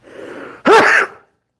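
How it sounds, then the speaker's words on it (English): A person indoors sneezes once, a sharp loud burst after a brief breathy intake, then silence. "I'm going to sneeze."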